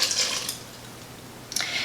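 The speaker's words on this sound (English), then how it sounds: "And then we're going to add about 1 cup of lukewarm water." About a cup of lukewarm water poured into a mixing bowl for burger bun dough, a short soft splashing pour near at hand, quiet and alone.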